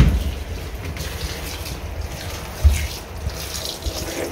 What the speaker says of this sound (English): And wash them with water.